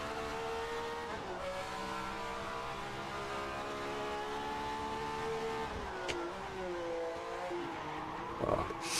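Ferrari 312F1 racing engine from the 1967 season, in a racing video game: a steady, loud harmonic howl whose pitch dips and re-climbs twice with sharp throttle blips on downshifts into corners, ending with a brief rasp.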